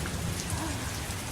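Steady heavy rain hisses without a break, with a low stormy rumble beneath it, as a short storm effect in a children's missionary story about a man on a ship at sea.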